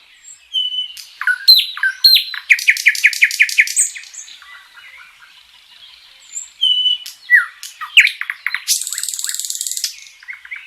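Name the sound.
small marsh prinia and small grass prinia singing at dawn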